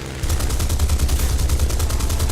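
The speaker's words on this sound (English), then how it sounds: "Oh, who's shooting me?" Rapid, continuous machine-gun fire from an enemy fighter plane in War Thunder rattles loudly and steadily over a droning engine, close and sustained with no talk.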